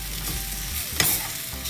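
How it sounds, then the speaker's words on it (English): Tomatoes cooking in a pan crackle with a steady sizzle while a utensil stirs them, giving a brief louder scrape partway through. "I need to stir it once."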